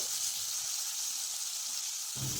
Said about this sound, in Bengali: সামান্য পরিমাণ হলুদ গুঁড়ো স্বাদ মতো লবণ দিয়ে সিম আর মূলোটাকে ভেজে নিতে হবে